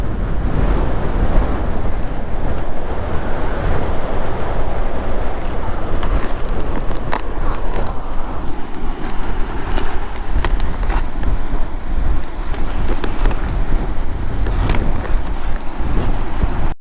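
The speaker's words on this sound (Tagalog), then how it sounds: "Lakas ng hangin." Strong wind roars and buffets the microphone on a motorcycle trip in Aurora Province, Philippines, without letup, a dense rushing noise that drowns out everything else for the whole stretch.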